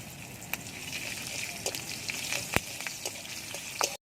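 Bay leaf, panch phoron and green chilli frying in hot oil, a steady soft sizzle with scattered small pops and crackles, fairly quiet and close, ending abruptly.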